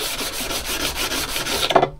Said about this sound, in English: what I'm going to do is pretty much just keep sanding the blade